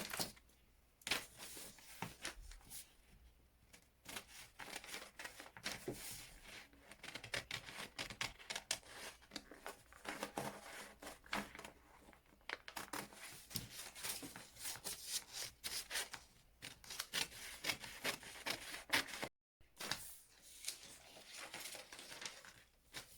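Scissors cutting along a paper back bodice pattern with seam allowances, drafted for a five-year-old girl; steady rubbing, rasping snips repeat up close for most of the stretch, with a short pause near the end.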